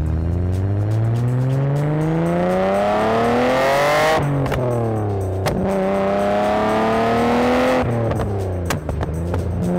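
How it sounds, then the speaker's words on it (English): Inline six car engine revving hard and loud up through the gears, each climb in pitch followed by a sharp drop at the shift, repeating three times with no voices. "Turbo or NA, I think every single inline six, they sound fine."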